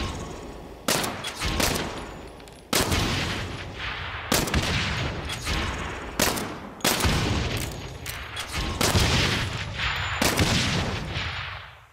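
Rapid gunfire from shooting at targets in the video game Saints Row, loud repeated bursts of shots in quick clusters with short gaps and echoing tails, close and punchy throughout.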